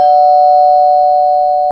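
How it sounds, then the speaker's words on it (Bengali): A steady electronic doorbell chime rings as a single sustained tone in an animated cartoon, loud and clear with no talking, cutting off abruptly near the end. "কৌতূহলী চোখে কলিং বেল চাপলো"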